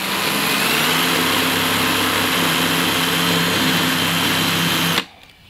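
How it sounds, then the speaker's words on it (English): A power drill runs steadily at high speed, boring a hole in the bottom of a plastic container, a loud continuous whine that cuts off abruptly near the end. "I'm going to drill a hole at the bottom."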